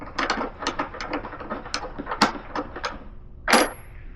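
A hand ratchet tightens a nylock nut over a fender washer on pulk sled rigging, giving a steady run of quick, close clicks that ends in one louder metallic burst.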